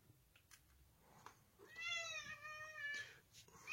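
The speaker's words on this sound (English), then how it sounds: "my cat's whining" A cat whines in a series of drawn-out, wavering meows, close and clear, over quiet background noise and faint knocking, with no talk.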